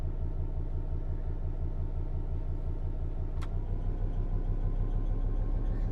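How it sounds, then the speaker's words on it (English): Class 66 diesel locomotive hauling wagons in Train Sim World 5 on the West Coast Main Line, a steady low engine thrash and rumble running continuously at even loudness with a brief high tone partway through. "Hopefully you should be able to hear the engine a bit more now as well. It's like a bit of thrash."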